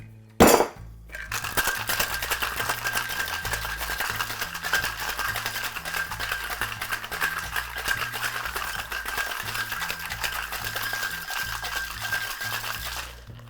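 The Last Word gin cocktail with lime juice shaken hard with ice in a metal tin, a steady rapid rattling of ice against metal running continuously after a brief clink at the start, close and loud, with no talking.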